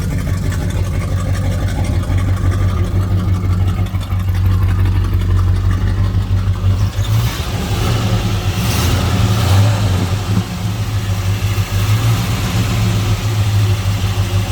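A 1967 Dodge Coronet R/T 440 Six Pack with a 4-speed runs with its exhaust cutouts closed, giving a loud, steady low rumble that holds throughout, with a brief rise in the middle. No one speaks over it.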